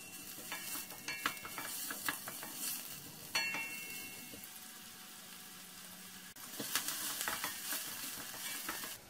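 Onions and a small carrot sautéing in oil in a pan for roasted vegetable lentil soup, a close, steady sizzle broken by repeated bursts of stirring and scraping, with no talking.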